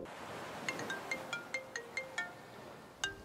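A phone ringtone plays a quick run of bright chiming beeps, about nine tones in a row, then a pause and one more, ringing from a seashell used as a phone in a film.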